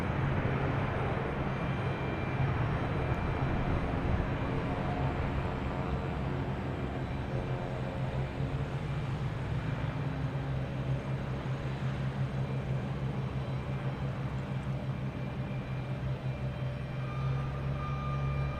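A JetBlue airliner takes off from runway 27 at Boston Logan Airport, a continuous broad jet roar and low rumble holding steady for nearly twenty seconds at moderate distance.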